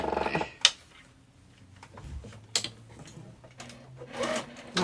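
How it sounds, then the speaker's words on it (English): Sewing machine stitching a fabric wristlet in short, sharp bursts separated by quiet pauses, with a final longer run near the end; close and moderately loud. "I'm going to sew it again."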